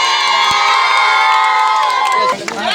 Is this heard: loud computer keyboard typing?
no